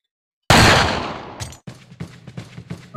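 Pistol fire in the video game Resident Evil 4, one loud sharp shot with a long decaying tail followed by a rapid series of quieter shots or impacts.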